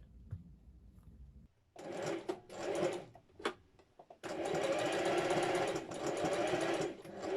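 Domestic sewing machine stitching the sleeve and side seam of a sweatshirt, running in short bursts and then a long steady stretch of rapid mechanical whirring, close and clear.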